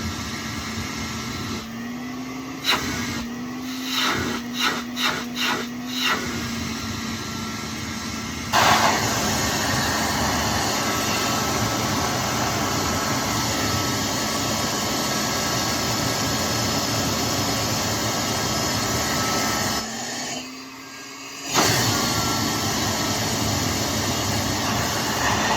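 A 1939 Filter Queen Model 200 vacuum cleaner switches on after a few clicks and runs as a steady, loud motor whine and airflow rush, briefly cut and restarted near the end.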